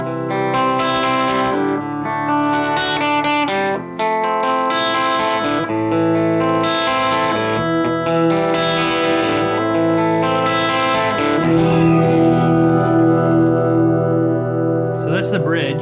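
A 2015 Epiphone Limited Edition Joe Bonamassa Les Paul Standard electric guitar played through a clean amp setting, sustained chords and melodic notes ringing with a little shimmer, loud and up front, with talking over it.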